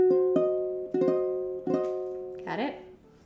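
Piano diminished chord, struck note by note and repeated a few times with sustained ringing, followed by a spoken voice near the end.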